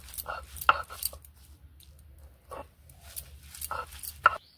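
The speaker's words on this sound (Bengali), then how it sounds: "এবার আমি বেটে নেব শিলনোড়ায় আস্তে আস্তে।" Bottle gourd leaves are ground by hand on a stone slab with a grinding stone, giving separate scraping, knocking strokes in slow clusters over a low background hum.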